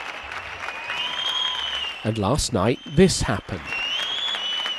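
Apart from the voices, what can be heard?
applause across Spain for doctors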